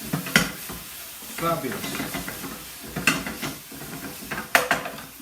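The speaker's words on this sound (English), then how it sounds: "Hear the sizzle on that." Sriracha chili sauce sizzles and spits in a hot pan, with irregular bursts of frying crackle and stirring scrapes rising and falling close by, and a brief word spoken once.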